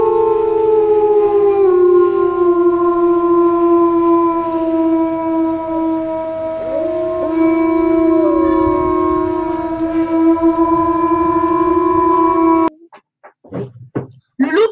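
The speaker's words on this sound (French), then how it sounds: "Le loup peut glapir, gémir, geindre platement, lancer une plainte, gronder platement, gronder, rogner, japper, aboyer et hurler." A wolf howls in long, sustained wavering tones with other voices overlapping in a chorus, followed by a few short yips near the end.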